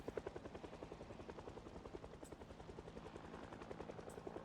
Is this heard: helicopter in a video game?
yes